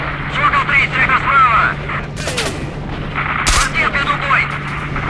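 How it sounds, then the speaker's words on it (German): Machine gun fire in the S.T.A.L.K.E.R. Shadow of Chernobyl video game comes as short, sharp bursts, one around the middle and another soon after, over busy in-game ambience. "Oder so ein Maschinengewehr-Dinger?"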